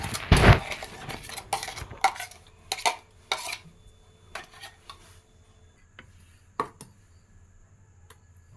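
Mango chutney, coarsely ground, is scraped into a bowl, with a run of sharp clinks and knocks of utensil against dish, busiest at the start, then sparser taps spaced by quiet gaps.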